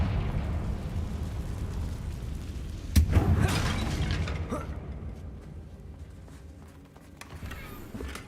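A Confringo spell explosion in the Hogwarts Legacy video game: one sharp blast near the middle followed by crackling debris, set in a quieter game ambience with some talk.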